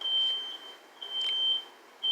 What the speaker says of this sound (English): This loud ass fucking beeping starts.